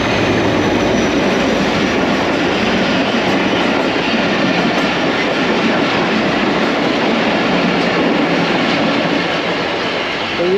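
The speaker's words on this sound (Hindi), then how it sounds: "तो ये थी 149 आप मेहरान एक्सप्रेस AGMU 30 8223 की लीड के साथ।" The Mehran Express passenger train, led by an AGMU 30 locomotive, passes close by at Malir railway station. It makes a loud, steady rumble with wheel clatter and faint squeal that holds for about ten seconds.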